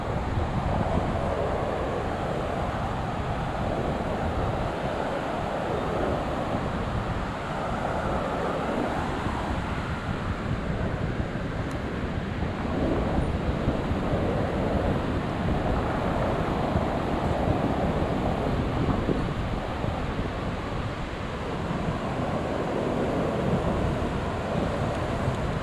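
Waves and wind on the beach at Balneário Camboriú, a continuous broad surf wash with steady wind buffeting the microphone, no speech.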